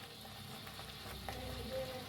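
Spice masala of turmeric, coriander powder, cumin powder, egg masala and Kolhapuri red chilli powder roasts in a pan with a soft, steady sizzle and faint scraping, quiet and close.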